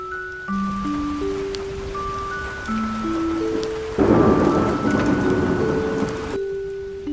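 Heavy rain pours outside in a cartoon scene, a continuous wash that swells louder partway through, with thunder rumbling and simple musical tones playing over it.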